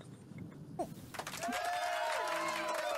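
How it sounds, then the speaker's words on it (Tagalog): Audience applause rises after a sung show tune and continues as a steady, dense wash of clapping, with a sustained tonal sound carrying over it. "Ang daming pumalakpak sa'yo."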